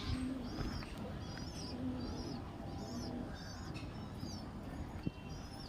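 Pet loft pigeons cooing softly while being handled, low repeated coos and a few faint higher chirps over quiet background noise, with one brief knock.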